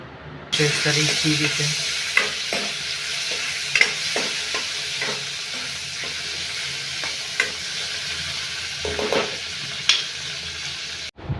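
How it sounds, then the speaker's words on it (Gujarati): Chopped tomatoes hit hot oil tempered with asafoetida for dal, and a loud close sizzle and frying hiss run throughout, with repeated clinks and scrapes of a spoon stirring the pan. "હિંગ નખાઈ ગયા બાદ ટમેટાને એડ કરી દેવાના રહેશે અને સારી રીતે મિક્સ કરી લેવાનું રહેશે।"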